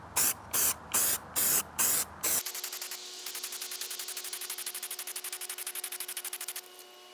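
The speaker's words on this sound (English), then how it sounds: "This is just silver spray paint." Rust-Oleum mirror effect silver spray paint sprayed onto sheet glass, first in five short separate bursts, then one long steady hiss with a faint rattling pulse running through it, close and fairly loud.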